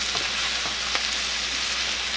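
Sausage, peppers and garlic fry in a pan with a steady, bright sizzle and a few soft crackles, close and continuous with no talking.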